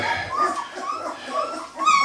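Three-week-old Berger Blanc puppies whimper and yip in a steady, close, moderately loud stream of high whines, with overlapping soft cries throughout.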